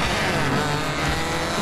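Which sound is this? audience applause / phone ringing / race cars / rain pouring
race cars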